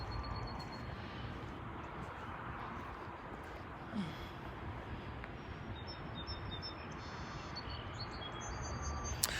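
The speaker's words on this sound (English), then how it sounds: "I hear birds just like I heard at my house." Small birds chirp faintly and intermittently in an outdoor parking lot, thin high tweets over a steady broad hiss of distant traffic and wind.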